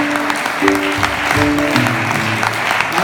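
A church congregation gathered for a worship service applauding: dense, loud, continuous clapping from a crowd, with voices and singing mixed in beneath.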